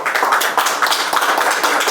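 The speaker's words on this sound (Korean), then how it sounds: "축하의 박수로 맞아주십시오." Congratulatory applause at an award ceremony for a research grant: a dense, steady patter of many hands clapping close by, sustained evenly throughout without voices.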